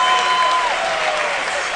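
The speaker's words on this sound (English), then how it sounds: "the crowd clapping for Neo" A tournament crowd at EVO 2010 claps loudly during a Super Street Fighter IV semi-final, in a steady burst of applause that fades slightly over the short span.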